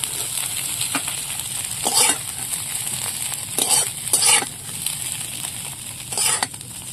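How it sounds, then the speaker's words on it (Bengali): Eggs fry lightly in a pan with a steady bright sizzle, broken by several louder bursts of spatter and stirring, close and continuous throughout. "ডিমটা বেশি ভাজবো না, হালকা করে ভাজবো।"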